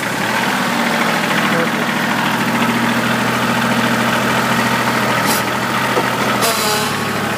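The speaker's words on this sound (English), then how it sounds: "Look at my pretty blue tractor." A big blue tractor's engine runs steadily close by with a loud, even, rumbling drone throughout. Two brief sharper noises rise over it near the end.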